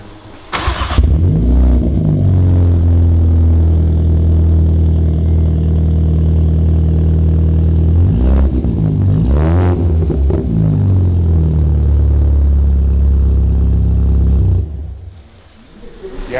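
Mini John Cooper Works Paddy Hopkirk tribute car, one of 100, with its engine revving hard and close, a loud sustained rumbling drone swelling through several blips before cutting off near the end.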